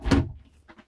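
A glass shower door in the bathroom of a 2020 Keystone Outback 335CG toy hauler RV opens or closes with one soft thud near at hand, then a faint brief rattle.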